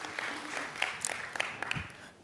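Audience at a fintech startup pitch event clapping between presentations, a soft, steady patter of applause with a few sharper individual claps, moderately distant and fading toward the end.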